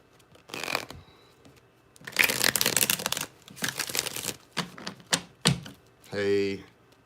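Tarot cards shuffled in several quick riffling bursts, crisp papery flutters separated by brief pauses, close and fairly quiet, ending with a short spoken word.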